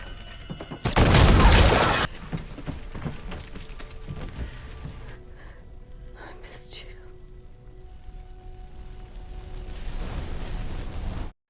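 A loud burst from a house being blown up in a film, a roughly one-second blast of broad rumbling noise followed by lingering debris and ambient sound, with faint voices and effects afterward.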